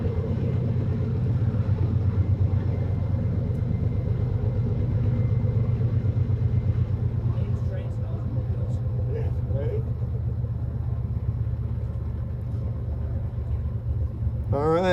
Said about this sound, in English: We'll give a moment for the engines to pass.